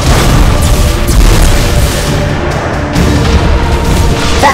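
Spaceship exploding in the space battle game Battlefleet Gothic Armada 2: a loud, continuous roar of booming blasts and crackling debris with no pause, close and overwhelming.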